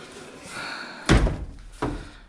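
A light door on a third-generation Honda Civic shuts with a solid thunk, followed by a second, lighter thud about a second later.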